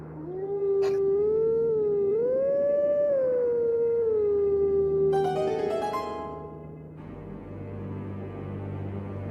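A single long, rising and falling wolf-like howl at a Howling Stone in The Legend of Zelda: Twilight Princess, loud and clear, followed by a short chime and a shift to a lower ambient tone.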